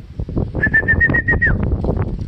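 A racing pigeon arriving at its loft during a hard derby race gives close cooing pulses, with a brief clear whistle-like tone in the middle before the calls trail off.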